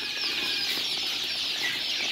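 Farm chickens, Egyptian broilers for sale, flapping and clucking in a dense, steady flock hubbub, close and continuous, with no voices.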